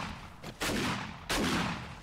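Two loud, close bursts of gunfire from the zombie survival video game 7 Days to Die, each sharp crack followed by a decaying rumble, about half a second apart.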